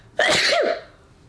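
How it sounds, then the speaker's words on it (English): A single loud, close sneeze bursts out with a sharp attack and a brief voiced tail, trailing into quiet room tone. "hold on, I think I'm gonna sneeze"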